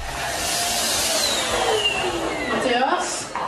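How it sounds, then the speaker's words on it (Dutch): A vacuum cleaner runs with a loud, steady whine, its pitch sweeping up and down, while a voice talks over it. "Ja, hij zuigt niet, die stofzuiger."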